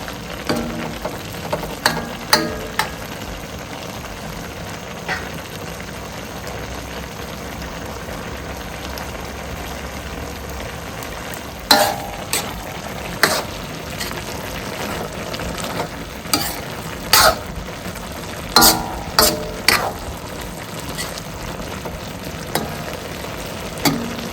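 Northern Thai roasted pork laab being stir-fried in a pan, with a steady low sizzle throughout and scattered sharp clacks of the utensil against the pan, close and continuous, with no talking.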